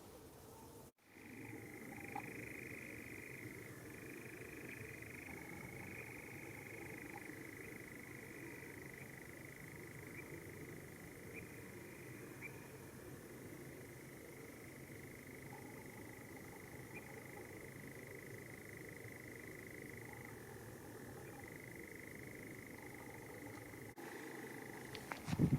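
A steady, continuous churring trill of nightjars holds at one pitch across the whole stretch, faint and distant over a low night-time hum, with no voices.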